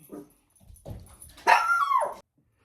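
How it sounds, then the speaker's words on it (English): A blind dog barks indoors, close and loud: two short yips followed by a longer, drawn-out bark, with silence between them. "Blind dogs will bark."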